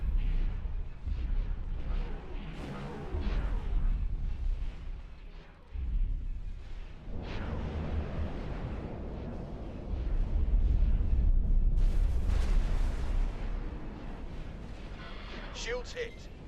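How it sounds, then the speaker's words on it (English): Ship guns in the X4 space game firing in heavy, continuous rumbling bursts and booms over several seconds, with someone speaking over the barrage. "Now we'll get all our guns firing."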